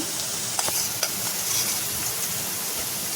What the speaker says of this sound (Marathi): आणि यालाही आपल्याला परतून घ्यायचं चांगल्यापैकी